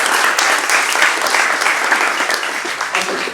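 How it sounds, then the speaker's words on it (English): A crowd applauding steadily at the end of a panel event, dense clapping throughout, loud and close. "So big round of applause for yourself and everyone else."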